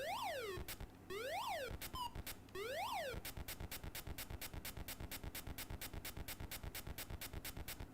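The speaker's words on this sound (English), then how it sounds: "Those are some loud beeps and boops." An Atari video game plays loud electronic sound effects. Sweeping rising and falling tones give way to a fast, steady train of sharp repeated beeps, with no voices over them.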